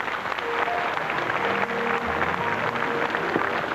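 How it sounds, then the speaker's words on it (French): Studio audience applause on a French television game show: dense, sustained clapping from a crowd, loud and even throughout without pause. "on peut l'applaudir"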